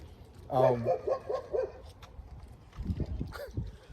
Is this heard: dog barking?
yes